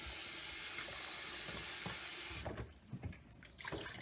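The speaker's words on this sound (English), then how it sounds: "I like to give them another quick little rinse." Running water steadily rinses sliced potato wedges in a kitchen, a loud continuous hiss of spray that cuts off partway, leaving softer drips and splashes as the water drains.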